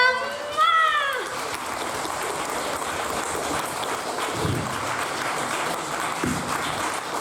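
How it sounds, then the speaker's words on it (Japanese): A live audience at a Japanese collaboration stage show applauds the guest band, steady crowd clapping that follows a few tones at the start and carries on under scattered voices. "大きな拍手お送りください"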